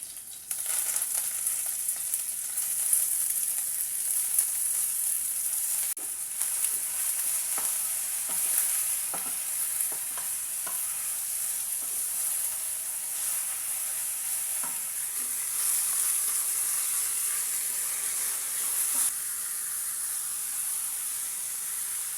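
Cabbage with carrots and tomatoes frying in a pan, a steady sizzling hiss with occasional stirring scrapes and clicks throughout, close and continuous with no talking.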